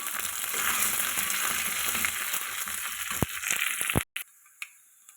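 Dried red chillies, curry leaves and chopped shallots frying in coconut oil with mustard seeds for a Kerala papaya erissery, a steady close sizzle with crackles that cuts off sharply near the end, leaving a few faint clicks.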